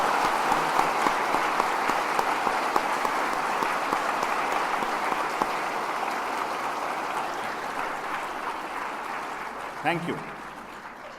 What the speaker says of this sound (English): I would like to request every one of you sitting in the auditorium to put your hands together